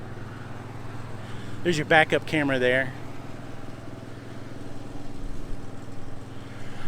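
A 5.5 kW Onan generator runs on a 2013 Newmar Bay Star 3305 Class A gas motorhome, giving a steady low engine drone throughout while someone talks briefly over it.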